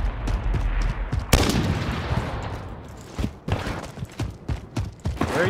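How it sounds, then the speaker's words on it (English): Rapid bursts of gunfire from an unseen opponent shooting at the player in a 1v1 video game match, with a loud crack near the start followed by scattered, sharp shots at uneven intervals. "Where are you shooting me from?"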